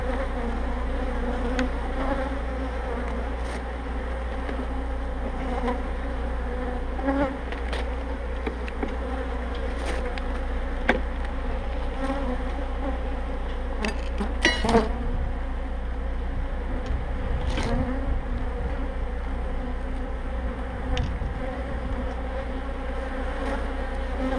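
Dense, continuous buzzing of many honeybees up close at an open hive, a steady drone with occasional louder passes and faint clicks.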